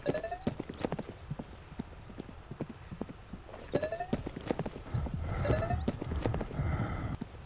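Hooves clip-clop in a steady rhythm through a horse riding video game set on a farm, with a horse snorting and a whinny near the start; the hoofbeats stay close and clear, swelling into a denser gallop toward the end.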